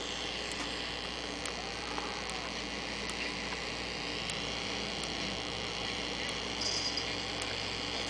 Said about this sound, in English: static coming out of it, sort of.